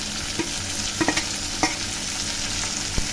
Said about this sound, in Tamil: தக்காளி கொஞ்சம் நேரம் வதக்கும் ஃப்ரெண்ட்ஸ்